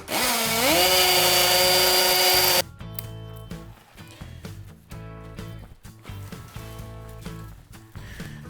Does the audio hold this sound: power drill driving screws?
yes